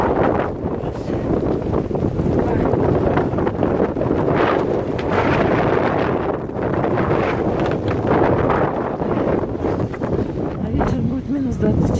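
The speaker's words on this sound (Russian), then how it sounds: "И вот такой ураган поднялся." A blizzard howls across open Siberian country at minus 24 degrees: strong, continuous wind roars and buffets the microphone loudly throughout with only slight swells.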